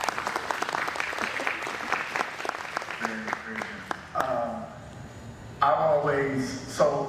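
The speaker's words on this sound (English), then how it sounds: "So can we give a round of applause for that?" A crowd at a talk for new property developers applauds a sponsor, Garland, with a few seconds of brisk clapping that thins out, followed by someone speaking alone.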